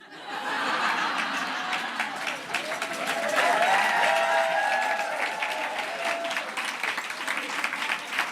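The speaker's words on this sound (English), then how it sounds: "you've got to keep that clapping going" Audience at a comedy show clapping as a comedian is welcomed to the stage, sustained loud applause with scattered cheers, whoops and some laughter blending in, steady throughout.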